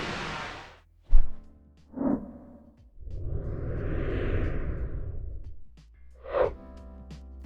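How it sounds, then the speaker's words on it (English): Whoosh transition effects built from synth noise, swung objects at a mic and a passing car: several separate swooshes, one long swelling rush in the middle, with sharp rising and falling sweeps around it. "how to create whooshes?"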